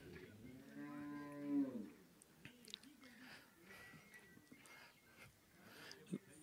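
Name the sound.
cross-breed cow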